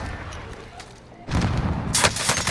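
Gunfire in Call of Duty: Modern Warfare during a multiplayer firefight, starting midway as a sudden loud burst of shots that continues in a dense, rattling volley.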